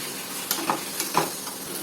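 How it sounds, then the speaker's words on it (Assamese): Turmeric powder and spices stirred into a frying pan during Assamese cooking: a low sizzle with a few spoon scrapes and taps over a couple of seconds. "এতিয়া আকৌ মিক্স কৰি দিম"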